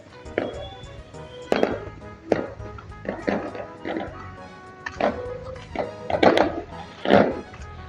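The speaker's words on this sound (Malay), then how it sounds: "Kedengaran bunyi mercun dan bunga api dari kawasan perumahan berdekatan." Irregular bangs and pops of firecrackers and fireworks from a nearby housing area at night, scattered sharp bursts of varying loudness mixed with crowd murmur and people talking.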